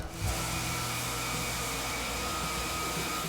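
A 5 horsepower, 220 volt floor machine motor runs with a steady, loud whirring drone and faint tonal hum, starting with a short thump and holding constant throughout.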